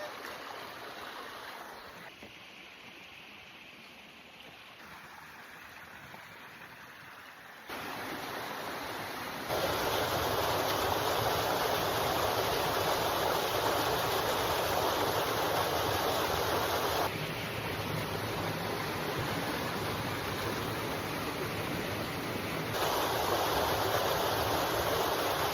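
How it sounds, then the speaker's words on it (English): A creek flows steadily along a hiking trail on Mount Tamalpais, giving a continuous rushing, bubbling wash of water heard up close. It grows noticeably louder partway through and stays full for the rest, with no voices. "I found a creek."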